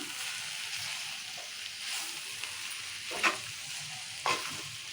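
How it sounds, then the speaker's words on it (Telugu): Broad bean curry being stirred in a pan after coconut powder and fresh coriander go in, with a steady low sizzle and a couple of distinct spoon scrapes near the end, no talking. "ఒకసారి కొబ్బరి పొడి వేసి కొత్తిమీర వేస్తున్నా. ఒకసారి కలుపుకుందాము."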